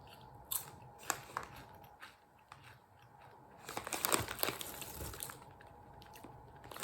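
Crisp crunching bites into a Lay's bacon grilled cheese flavored snack, several close sharp crackles with a denser burst of chewing crunch near the end, no talking.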